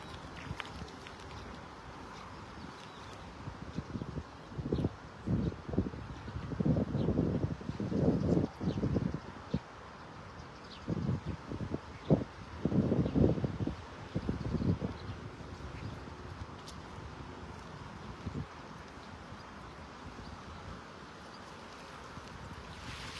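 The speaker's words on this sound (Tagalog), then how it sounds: "Ang lakas ng hangin." Strong wind gusting during cast net fishing on the water, rushing and buffeting the microphone in swelling bursts over a steady outdoor hiss, with no talk.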